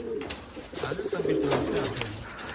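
Rajshahi Giribaz pigeons coo in soft, throaty bursts, one call rolling into the next, close by against a faint background hiss.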